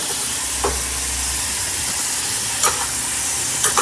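Onions browning in a hot pan give a steady, close broadband sizzle and hiss throughout, with a few brief scraping stirs and clicks along the way.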